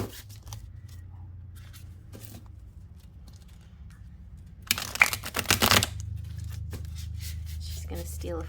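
A deck of tarot cards is shuffled face up in a quiet room, a short, dense riffle of card noise about a second long standing out midway against a low steady hum.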